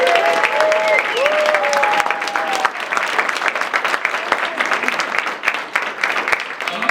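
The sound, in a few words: audience applauding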